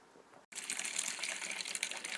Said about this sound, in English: What I do is I add about 9 litres of water to the mash tun